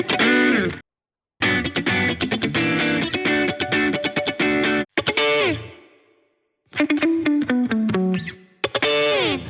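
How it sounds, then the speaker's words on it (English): Distorted electric guitars played through a Boss GX100 with compressor, treble boost and blues driver chug a J-pop verse in loud, choppy bursts, separated by brief silences and one ringing sustained chord. "now we're gonna add some guitars for the second half of the verse"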